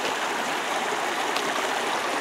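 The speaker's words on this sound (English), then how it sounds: "there's a brook that flows out of Quarry Lake here" A brook flows out of Quarry Lake, a steady, close, broadband rush and trickle of water that holds even throughout with no voices.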